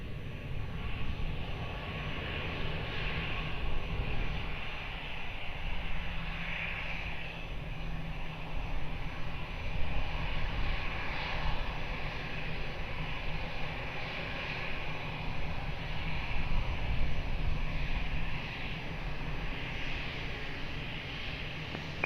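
A fixed-wing airliner at Lisbon Airport gives a steady, broad engine roar that holds at an even level throughout, with no voices present.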